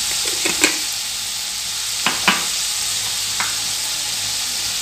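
Ginger and asafoetida sautéing in a pan with tomato for tomato coriander chutney, a steady sizzle broken by a few sharp scraping stirs.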